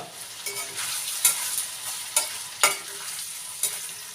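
Paneer masala fries in a pan with a continuous close sizzle, broken by a few sharp spatula scrapes and clicks at uneven intervals.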